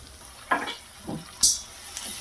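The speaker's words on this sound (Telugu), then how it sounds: "చక్కగా పచ్చివాసన పోయే వరకు ఇది కూడా వేగిపోద్ది" Ginger garlic paste frying in a pan for a curd okra curry, with faint sizzling and a few soft stirring scrapes and clinks, no talk.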